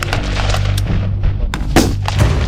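Rapid rifle gunfire during Marine Corps recruit training, loud bursts of shots with a dense, rumbling crackle and a few sharper cracks standing out, no talking.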